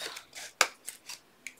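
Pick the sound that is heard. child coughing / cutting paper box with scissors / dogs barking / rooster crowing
cutting paper box with scissors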